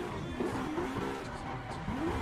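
Racing car engine in the Live for Speed driving game, a continuous revving drone with rising and falling pitch as the car accelerates and shifts, steady and fairly close with no pause.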